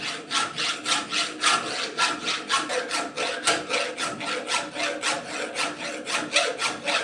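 Hand file worked back and forth across a workpiece, a steady close rhythm of rasping strokes, roughly three per second, each a gritty scrape with no voices.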